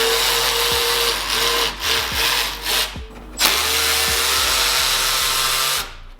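A power tool whirs steadily while removing 10 mm bolts from the radiator of a Nissan 350Z during an engine pull, running loud and close with brief dips and surges in tone.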